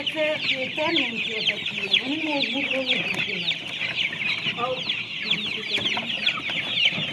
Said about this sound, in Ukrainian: оце, це теж півні, єдині. Красавці, це такі.